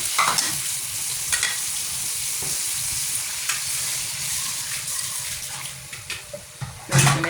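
Chicken adobo frying in a pan just after vinegar is added gives a loud, close, continuous sizzle, broken by stirring scrapes and a few sharper clatters, with no voices.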